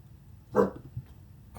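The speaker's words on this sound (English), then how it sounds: "Sorry, the dogs are in the background. They bark." Dogs barking somewhere in the background of a room: one sharp, fairly loud bark followed by a softer yip and a faint final bark, with quiet gaps between.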